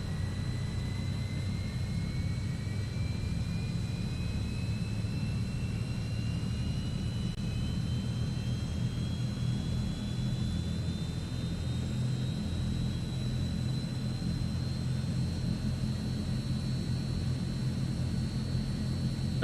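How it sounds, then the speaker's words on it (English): Transall turboprop engine in a flight simulator game spooling up during start, a steady rumbling drone with a rising whine climbing slowly over about twenty seconds, continuous and without talking. "And the engine is starting."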